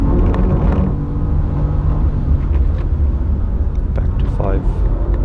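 A BMW M4 CSL engine at racing speed on the Nürburgring, holding a loud, steady drone and roar across the whole stretch, with a short rising rev near the end during a shift.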